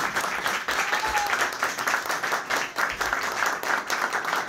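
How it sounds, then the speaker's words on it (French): A brief round of audience applause at a Classic Courses Hy Racing team gathering for the 2021 Spa 6 Hours, dense steady clapping filling the space for a few seconds. "Un applaudissement."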